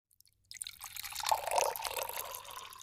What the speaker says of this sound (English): I poured the water into the spout.